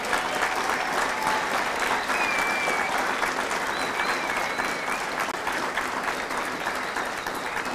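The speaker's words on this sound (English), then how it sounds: "Ladies and gentlemen, please join me in a round of applause for the company staff of Company F." Sustained applause from an audience at a Marine Corps recruit graduation ceremony for Fox Company at MCRD San Diego, a steady dense wash of clapping that holds evenly for the whole stretch.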